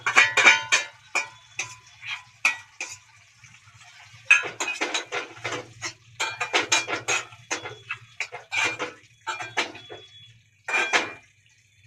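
A spoon clinks and scrapes against a pan again and again while carrot halwa cooks with sugar, in irregular bursts of sharp metallic taps with short pauses between them.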